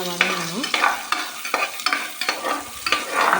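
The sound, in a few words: small onions sautéing and stirred in a pan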